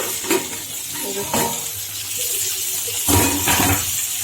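Pointed gourd slices frying in a pan give a steady broad sizzle, with scraping stirs and a few louder bursts of spatter throughout.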